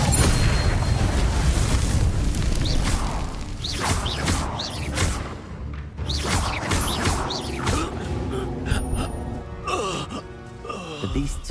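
Expelliarmus and other spell effects in Hogwarts Legacy on hard difficulty: loud whooshing bursts, booms and magical swells amid busy combat, with creature groans and cries layered over a dense, continuous game mix.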